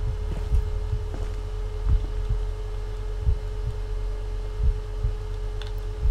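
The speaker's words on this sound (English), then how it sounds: "He's able to hear my heartbeat." A low, rhythmic heartbeat thumps in the horror video game Eleusis. Steady pulses repeat about every second and a half under a constant electronic hum, with faint clicks and no speech.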